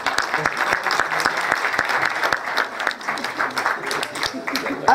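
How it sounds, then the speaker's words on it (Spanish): An audience at a 2014 tribute event in a Spanish-speaking community gives steady, dense applause throughout, with a voice faintly audible beneath the clapping. "Un aplauso, por favor."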